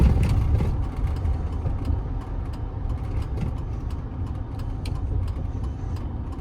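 A warmed-up 2003 Chevy Silverado 1500 with the 6.0L engine runs steadily, a low broadband rumble with faint ticks and road noise, close and continuous with no talk.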